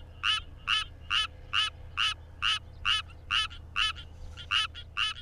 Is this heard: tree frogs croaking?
yes